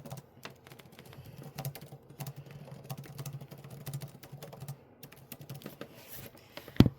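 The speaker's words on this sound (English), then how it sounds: "I'm sorry if you just heard me typing." Rapid, irregular clicking of keys on a computer keyboard, steady close typing with small pauses and one louder knock at the very end, no voices.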